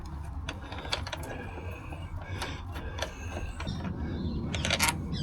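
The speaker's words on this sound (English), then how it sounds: "we need to take these two hex bolts out" A ratchet clicks repeatedly at close range while backing out hex bolts on a Vespa scooter, set against a busy background of mechanical rattling.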